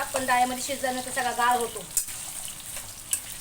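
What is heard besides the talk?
vegetables frying in a pan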